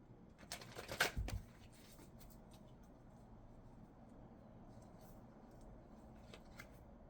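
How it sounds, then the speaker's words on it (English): Oracle Tarot cards get a quick shuffle near the start, a brief papery riffle lasting about a second before the room falls quiet. "let me get some cards from the Oracle Tarot"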